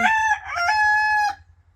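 A rooster crows once, loud and close, with a drawn-out harmonic cry that cuts off sharply.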